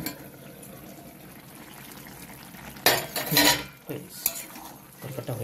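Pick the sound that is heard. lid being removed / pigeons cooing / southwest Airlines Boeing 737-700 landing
lid being removed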